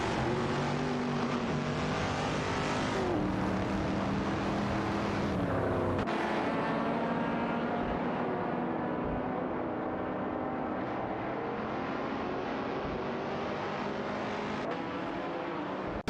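Racing engines from an AI racing video game, a Shelby GT350 and a Ferrari 275 GTB, drone and whine as their pitch rises and falls through gear changes, one continuous loud roar with cars passing.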